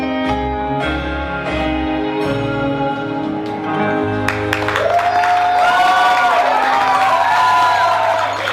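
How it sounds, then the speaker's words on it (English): Wedding guests break into cheers and applause partway through, a loud crowd swell with whoops rising over steady music that plays throughout. "Let's give them a bigger round of applause."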